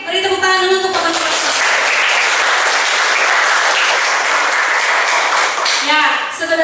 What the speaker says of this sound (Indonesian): beri tepuk tangan dulu untuk teman-teman